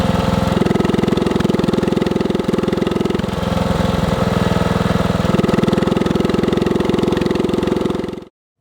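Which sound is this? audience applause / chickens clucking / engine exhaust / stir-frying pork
engine exhaust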